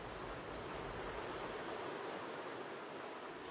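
Powerful ocean waves break against volcanic rocks on the Galapagos coast, a steady, faint, distant roar of surf with no voices.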